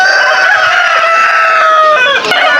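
Chickens on a poultry farm cluck steadily and loudly up close, with a rooster's crow rising over the flock and fowl noises filling the whole stretch without talk.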